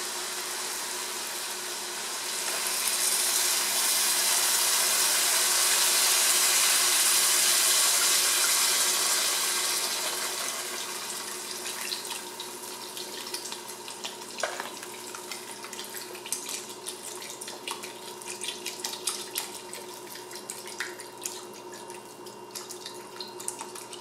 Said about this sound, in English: So now you want to add your 8 cups of beef broth.